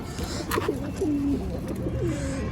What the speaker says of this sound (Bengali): আমাদের যে মাদি কবুতর তার বাচ্চা নিয়ে বসে আছে